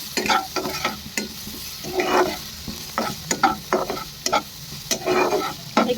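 Broccoli stems sautéing in a pan for broccoli almond soup, close sizzling interrupted by repeated stirring scrapes at an irregular rhythm, with no talking.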